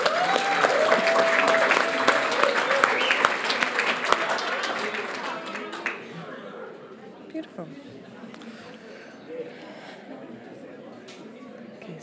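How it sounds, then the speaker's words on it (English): A crowd claps loudly at the 2022 Victorian Aboriginal Honour Roll ceremony, the dense applause lasting about five seconds before dying away into quieter chatter and the odd clap. "can we please give her another round of applause?"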